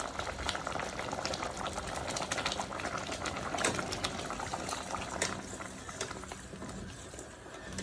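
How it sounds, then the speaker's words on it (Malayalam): Coconut milk, the first extract, goes into a pot of ada pradhaman with melted jaggery, sago and cooked ada, setting off a steady bubbling, gurgling simmer that runs throughout, fairly soft and close, with no talking. "തേങ്ങാപ്പാലിൻ്റെ 1-ാം പാലാണ് ഒഴിച്ചത്"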